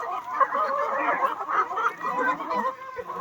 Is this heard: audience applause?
no